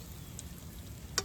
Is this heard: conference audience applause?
no